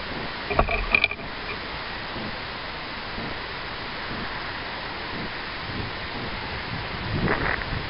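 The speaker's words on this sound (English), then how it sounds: "we have a big storm front moving in and it is windier than crap out here" Strong gusty wind blows outdoors ahead of an incoming storm front, a steady rushing roar with buffeting against the microphone and a few brief rattling knocks near the start.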